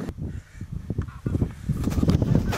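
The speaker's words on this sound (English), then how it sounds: "We can hear the pink-footed geese, kind of high-pitched, wink, wink, wink, and coming in over the marsh." Pink-footed geese calling while flying in over a marsh, a distant flock giving many overlapping high-pitched honks that swell slightly louder toward the end.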